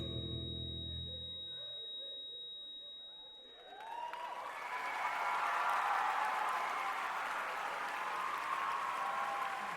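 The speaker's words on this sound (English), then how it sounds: "your loudest applause for Hall 7, Savvy!" Audience applause at a live hall performance event, swelling from a quieter start into loud, sustained clapping and cheering from a large crowd that fills the rest of the clip.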